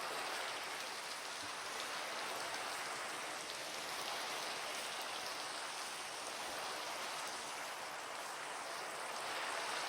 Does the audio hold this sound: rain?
yes